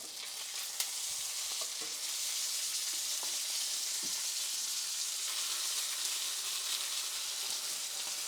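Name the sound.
New York strip steak searing in a scalding hot pan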